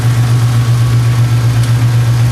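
A Chevrolet Cavalier Z24 with a 3.1 liter engine and a cone air filter idles close by, giving a loud, steady low hum with an even pulse.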